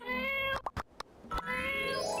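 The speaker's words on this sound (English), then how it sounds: "You really need a better meow sound effect." A single synthetic-sounding cat meow rings out clearly amid Portia game sounds, with a few short thumps and plops in between and no talking.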